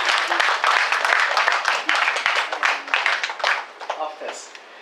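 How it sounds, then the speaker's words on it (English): Applause from an audience at a conference on reproductive health in the Philippines, given in honor of a congressman: dense, steady clapping that fills the room, then thins and fades out near the end. "we have to give a special round of applause to the Congressman and to everybody else"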